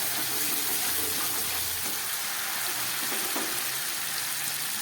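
Ginger and tomato being sautéed in a pan for potato curry, giving a steady, moderate sizzle and frying hiss with faint stirring, heard alone without talk.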